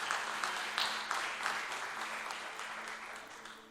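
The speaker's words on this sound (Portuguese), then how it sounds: "Aplauda o nome do Senhor Jesus." Enthusiastic applause from a church congregation during a sermon, with rhythmic clapping accents that gradually fade a little toward the end.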